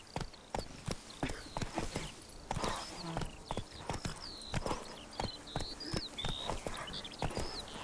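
Roach, the horse in The Witcher 3's Blood and Wine, gallops with a brisk, evenly repeating clatter of hoofbeats, loud and close, with faint game ambience underneath.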